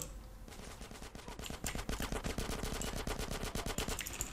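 Gunfire in an MTA battle royale game: sustained, rapid automatic bursts, loud and close, with the shots blurring into a dense rattling volley that builds after a quieter start and keeps going steadily.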